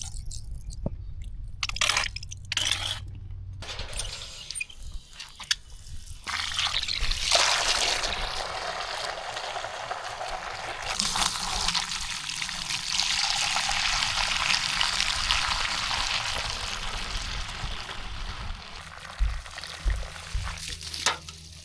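Water trickles and splashes close by, a steady wet hiss with intermittent squishy gurgles and drips, no voices.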